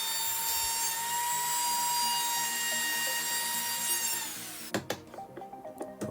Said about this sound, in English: now I'm routing the groove in the back of the cabinet for the MDF backing